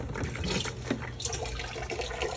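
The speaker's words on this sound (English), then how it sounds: "now we have a slow moving water acclimation so we don't make Frankie freak out" Slow water trickling through an aquarium siphon tube during drip acclimation of a fish, a steady soft liquid dribble with faint hiss, close and continuous.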